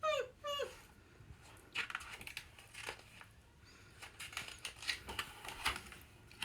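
A person imitating a dog's whimpers and yips with short rising squeaky vocal sounds at the start, followed by faint rustling and tapping noises.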